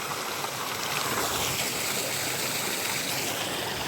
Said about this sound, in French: c'est juste la petite rivière avec donc on n'y est pas encore.